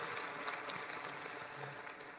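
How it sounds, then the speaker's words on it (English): Continuous applause from a large audience at an entrepreneurship awards ceremony, a dense, even wash of many hands clapping that holds steady throughout without speech. "Give yourselves a round of applause."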